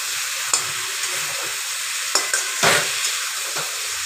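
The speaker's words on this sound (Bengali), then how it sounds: "এবার মাংসটাকে কষাবো।" Chicken fries with ground spices, salt and turmeric in a pan, giving a steady close sizzle punctuated by a few scraping stirs and clatters.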